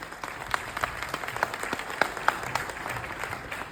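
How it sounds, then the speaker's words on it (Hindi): An audience at a network-marketing business seminar claps loudly and steadily, many hands forming a dense, continuous burst of applause that stays even throughout without speech. "मैं चाहता हूं एक बार जोरदार ताली आप सभी अपने लिए जरूर दें"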